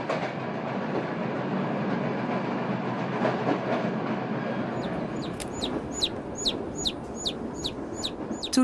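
A pet chick chirps aboard a passenger train in Turkey, a steady series of sharp repeated peeps over the continuous rumble of the moving carriage.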